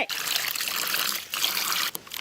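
Plain water pours and trickles into flour batter in an outdoor village kitchen, a close, bright splashing stream that runs continuously and breaks off briefly near the end.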